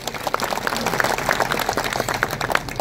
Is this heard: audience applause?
yes